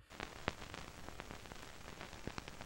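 A frying pan recording played back as a sample in an Ableton drum group gives a soft crackling patter of scattered ticks and pops over a hiss, like rain on a tent. It is fairly quiet and there is no talk.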